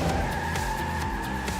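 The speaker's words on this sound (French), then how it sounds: "je vais devoir faire une petite marche arrière" A toy car in the Hot Wheels video game backs up, its tyres skidding in a steady squealing whine with faint engine hum underneath, loud and continuous.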